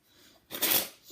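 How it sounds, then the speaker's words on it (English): A Harry Potter deck of playing cards being spring-shuffled, a brief rapid burst of fluttering card snaps that builds and fades within about half a second, close and fairly loud after near silence. "they spring"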